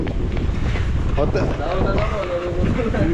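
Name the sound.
strong wind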